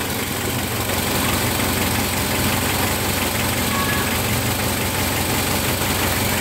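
An idling engine shudders with heavy vibration, a steady rough drone running loud and close for the whole stretch with no talk over it.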